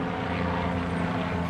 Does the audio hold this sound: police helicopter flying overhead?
yes